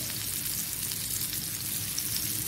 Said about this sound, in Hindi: अच्छे तरह से इनको हम फ्राई करेंगे